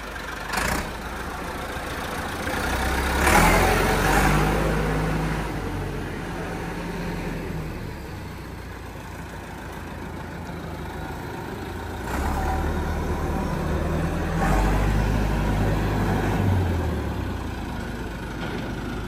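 A tractor engine runs continuously while being driven on a farm outing in light rain, with a low rumbling drone that swells louder at times and eases back, heard nearby without talk.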